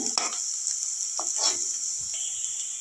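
Chopped onion and finely chopped green chillies sizzle in a hot pan, a steady high hiss broken by a few short stirring scrapes, close and alone without talk.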